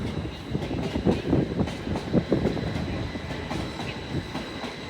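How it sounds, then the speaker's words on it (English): Northern 'fishbowl' passenger train pulling out of Leeds station bound for Doncaster, a steady rumble with rhythmic wheel clatter and a faint whine, moderately loud and heard without voices. "Departing now is a fishbowl, bound for Doncaster."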